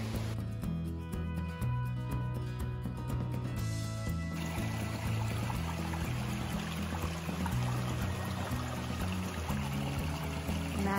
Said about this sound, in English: I'm gonna stop here and get some water, fill my water bottle.